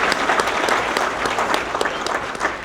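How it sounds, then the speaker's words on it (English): A roomful of guests at an annual fundraiser dinner breaks into steady, dense applause, many hands clapping close and loud throughout. "let's give all of these fine folks and citizens a round of applause"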